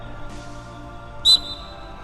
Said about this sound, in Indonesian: Peluit